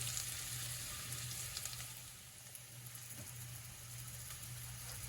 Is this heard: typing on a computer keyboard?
no